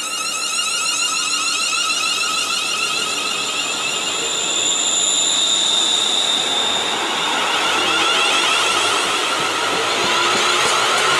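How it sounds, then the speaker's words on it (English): A train departs West Kilbride station toward Largs with a loud, sustained rumble and high whining, squealing tones from the wheels and motors, steady throughout. "now it's departing for Largs with its next stop being Fairley"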